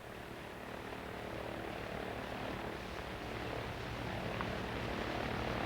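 A twin-engine propeller airliner of an early American airline, each motor 1,450 horsepower, drones steadily in flight, a continuous low engine roar that holds level throughout with no talking.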